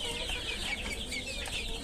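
Desi chickens raised for meat on a farm cluck steadily and close by, a busy overlapping flock chatter with no voices.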